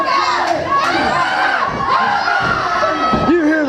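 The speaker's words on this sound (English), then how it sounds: "You hear the crowd, Jason James." A packed crowd at a wrestling show in a sawmill arena shouts, whoops and cheers loudly and continuously, with individual voices yelling out over the roar.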